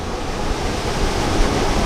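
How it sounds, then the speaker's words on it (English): Atlantic Ocean waves below a viewpoint on the north side of Madeira, Portugal, make a continuous broad roar of surf, fairly loud and steady with no voices over it. "look at those waves"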